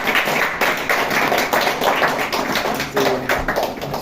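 Congregation clapping in praise at a Hindi-language church service, a dense continuous wash of many hands that carries steadily through the whole stretch, close and fairly loud.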